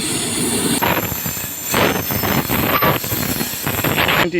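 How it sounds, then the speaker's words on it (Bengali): A passenger express train pulled by a WAP-7 electric locomotive rolls into New Cooch Behar station, a loud, continuous rumble of wheels and carriages with a sharp metallic squeal near the end. "কিন্তু ট্রেন আসছে এপি সেভেনের লোকোমোটিভ"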